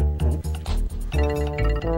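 A short series of clear, bell-like electronic phone notification chime notes rings out in a quick rhythmic pattern, close and fairly loud, signalling a low battery.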